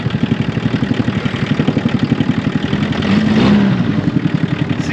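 A Volkswagen Rabbit engine, once abandoned in the woods, runs loud and close with a steady pulsing idle, then revs up briefly and settles back to idle.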